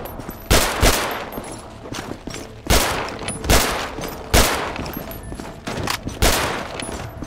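Pistol shots fire in pairs and singles from first-person view during a zombie mode of GTA V, sharp and loud with gaps between bursts and a steady game ambience underneath.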